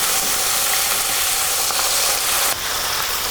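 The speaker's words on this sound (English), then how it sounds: "I'm gonna turn the heat up, get a little more browning on this garlic" Garlic frying in oil in a pan over high heat for aglio e olio, a loud continuous hissing sizzle that fills the whole stretch, close up and without speech.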